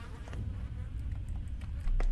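Fly buzzing steadily in the horror game Bloody Room, a close, continuous insect drone with faint ticks and thuds over low room ambience, no voices.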